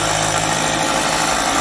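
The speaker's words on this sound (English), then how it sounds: "securing the corner joint with these long panel screws" Power tool driving long panel screws into a wall panel corner joint on a building site, a loud steady whirring drone throughout the short burst.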